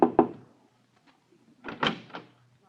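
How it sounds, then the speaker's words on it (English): Two sharp knocks on a hotel room door, followed by a pause and a few softer thuds of the door being handled, close and clear with no one speaking. "I'll knock on the door."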